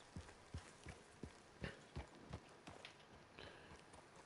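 Horse hooves clip-clop in a steady trotting rhythm in the video game Red Dead Redemption 2, a string of sharp, fairly close hoofbeats with soft ambient background and no talking.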